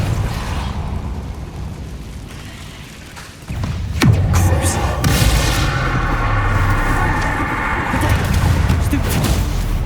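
Spell blasts from the Hogwarts Legacy video game: a sharp crack near four seconds sets off a loud, sustained burst of booming, crackling magical impacts. It stays dense and noisy to the end after a quieter rumbling start.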